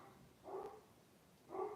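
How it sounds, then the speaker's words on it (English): A dog indoors barks at someone knocking at the door, two separate faint, muffled barks about a second apart, distant and with no other sounds around them. "Oh, someone's at the door. And my dog's freaking out because that's what he does best."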